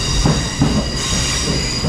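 A train pulls in at a station platform on the 17:42 service to Leeds, a steady loud rumble of rail noise throughout with faint wheel squeal and a couple of brief low thumps.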